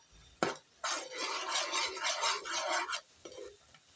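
Sesame seeds roast in a pan as they are stirred, with a dry rustling scrape across the pan surface and a few sharp utensil knocks before and after, close and short, with no voices.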